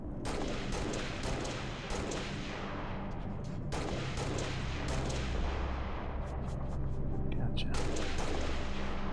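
Continuous gunfire and explosions from the Halo: Reach video game, with repeated sharp shots and booms over a steady roar of battle throughout.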